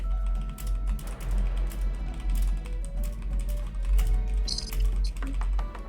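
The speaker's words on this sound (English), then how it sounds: "You hear my typing?" Rapid typing on a computer keyboard clatters in irregular bursts of keystrokes, close and fairly loud, over a low background hum.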